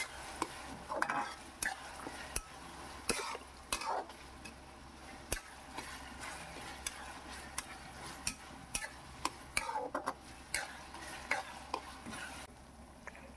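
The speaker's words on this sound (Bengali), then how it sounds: "আদা রসুন বাটাটা দিয়েও আমাকে ভালো করে কষতে হবে" Ginger-garlic paste sautéing in a pan for chicken do pyaza, a soft steady sizzle broken by sharp scraping stirs and spoon taps at irregular intervals, close and moderately quiet with no talking.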